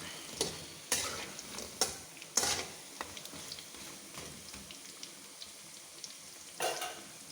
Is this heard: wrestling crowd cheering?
no